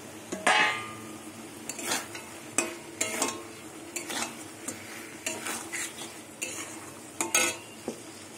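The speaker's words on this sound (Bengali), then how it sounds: "এবার মাছটা দিয়ে কিছুক্ষণ কষিয়ে নেব।" Fried katla fish pieces being stirred through chilli-spiced masala paste in a pan, with repeated scraping and clinking strokes of a spatula over a steady low sizzle, close and fairly loud, no talking.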